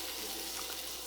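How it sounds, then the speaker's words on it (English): Medium-diced onion frying in a hot pan for a vegetable chickpea curry, a steady close hiss and crackle running unbroken through the short moment with no voices. "So now I have some medium diced onion I'm going to add. You can hear that nice sizzle."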